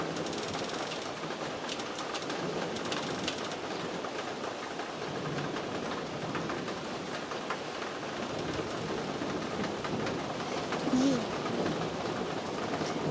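Heavy storm rain falls in the rural Colombian mountains, a steady dense wash of drumming rain on surfaces, continuous and moderately loud, with a faint bird call near the end.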